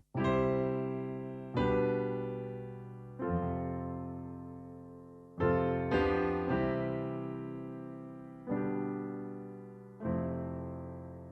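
Sustained chords struck one after another on a keyboard-like instrument, about seven changes, each ringing and slowly decaying before the next; no voices.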